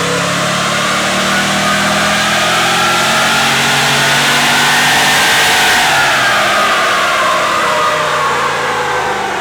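A supercharged Nissan Patrol Y62 engine runs hard on a dyno in two-wheel drive, a loud continuous roar whose pitch climbs through a sustained rev and eases slightly near the end, with no talk.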